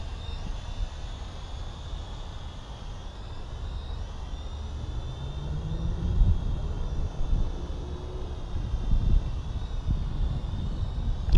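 SONGYANG SY-X33 folding drone hovering nearby with a steady whine of tonal propeller hum. Low wind rumble and a few soft bumps sit underneath.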